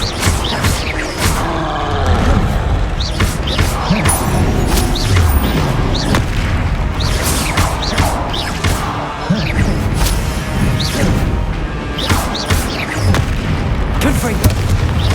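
Confringo blasting spells explode in the Hogwarts Legacy video game, a dense, loud run of booming, crashing blasts that overlap continuously with no quiet gaps, and a voice speaks over the din.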